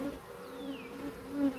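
Honeybees hum steadily around a Layens hive while two colonies are combined, with a low continuous drone and occasional brief passes of individual bees close by, faint and with no talk.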